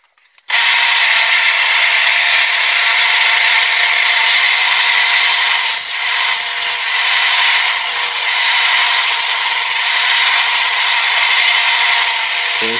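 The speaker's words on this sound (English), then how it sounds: "And now I'm going to go on my sanding belt" A belt sander grinds the tang of a handmade knife blade, a loud continuous abrasive rasp that starts abruptly and holds steady throughout with no talk.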